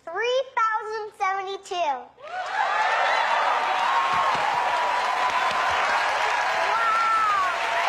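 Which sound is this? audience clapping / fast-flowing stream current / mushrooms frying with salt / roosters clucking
audience clapping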